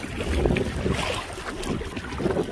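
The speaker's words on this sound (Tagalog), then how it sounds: "Ah, lalaki ng alon no." Strong wind and rolling waves surround a small fishing boat out at sea near Arnes Beach, a continuous broadband roar with wind buffeting the microphone and no voices.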